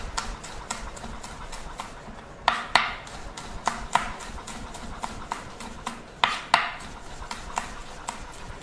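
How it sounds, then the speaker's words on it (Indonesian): A knife chops onions on a board for beef stroganoff, steady irregular taps with a few louder sharp knocks, close and fairly quiet, with no talk over them. "dipotong dulu bawangnya"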